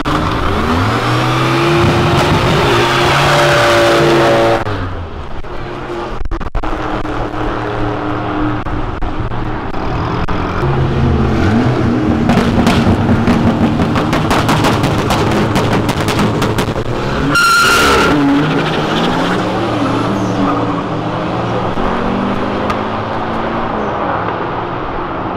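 Drag racing cars, a Golf with 300 hp against an Opala, rev hard and spin their tires in burnouts. Loud, roaring engines and screeching wheelspin build through repeated surges and gear changes, close to the listener.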